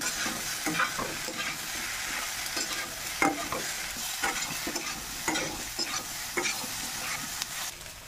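Soybean chunks and potato with spices fry in a pan under a steady broadband sizzle, with repeated scraping stirs of a spatula punctuating it throughout, close and fairly loud, no voices.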